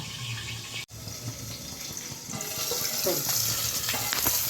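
Foli fish frying in a pan, a steady broadband sizzle running throughout, briefly cut off near the start and then growing slightly louder, with faint scraping from stirring.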